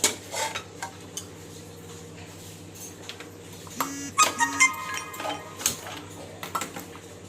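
A steel bowl of moong dal, water and onions set inside a pressure cooker, with scattered metallic clinks, knocks and scrapes up close over a low background hum, no talking.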